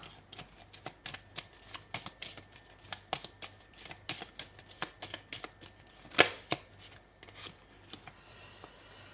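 Tarot cards, only the major arcana, are shuffled and drawn up close in a run of quick, crisp riffling snaps and slides, one sharp slap standing out partway through, with no voices.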